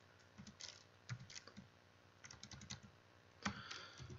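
Code being typed on a computer keyboard gives quiet, close bursts of key clicks in uneven runs, with short pauses between them and one sharper clack near the end.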